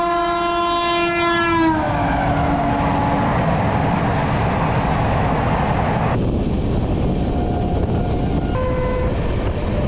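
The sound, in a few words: train passing through Palwal railway station, horn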